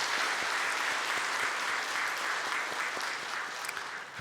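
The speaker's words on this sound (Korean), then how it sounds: "우리 한번 박수로 격려하겠습니다." Church congregation applauding the choir, with dense, steady clapping from many hands filling the room at a sustained even level.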